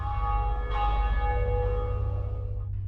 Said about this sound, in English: They proceed to the top of the church to ring the bell.